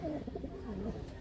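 Andhra high-flying pigeon cooing up close, a low soft warbling coo repeated through the short moment with steady room noise behind.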